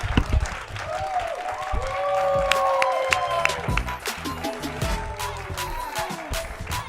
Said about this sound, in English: One more big round of applause for Jeanie Doogan